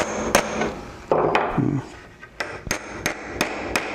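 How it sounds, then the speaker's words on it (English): Hammer blows peen the end of a cut nail rivet on a barrel stave easel, several sharp metallic strikes ringing out, a few spaced apart early and then a quicker run of evenly timed hits, with faint handling scrapes between. "I can now peen the end to the desired shape that I'm looking for."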